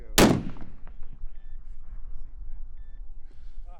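Long-range rifle shot fired at a distant target in an extreme-distance shooting competition, one sharp, loud crack followed by a fading rumble and quiet outdoor background.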